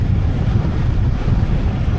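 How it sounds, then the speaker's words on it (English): Strong wind roars against the microphone during a motorcycle ride, a steady low buffeting rumble with no talking. "to see how this is going to sound with all this wind"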